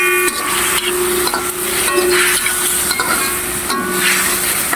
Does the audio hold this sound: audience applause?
no